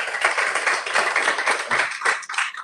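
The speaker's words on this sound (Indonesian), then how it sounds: "Ayo kita berikan tepuk tangan untuk Tuhan" A church congregation claps during a Sunday sermon, a quick, dense burst of many hands rising and falling in short waves over a few seconds.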